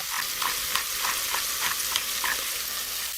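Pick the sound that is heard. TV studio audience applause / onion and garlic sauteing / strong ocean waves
onion and garlic sauteing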